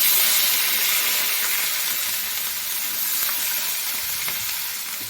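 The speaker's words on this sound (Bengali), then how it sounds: "এবার দিয়ে দেবো জিরে ফোড়ন, পেঁয়াজ দিয়ে দেবো।" Cumin seeds and onion sizzle in hot oil for a spicy katla curry, a loud, steady frying hiss that fills the whole stretch with no voices.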